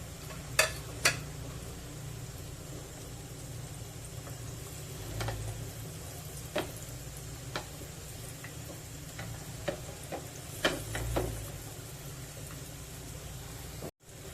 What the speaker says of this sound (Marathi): तीन ते चार मिनिटं खरपूस तुकड्यात फ्राय करून घ्यायचे आहेत